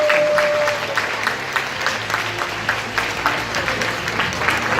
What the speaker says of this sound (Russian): Стоя аплодисменты не мне,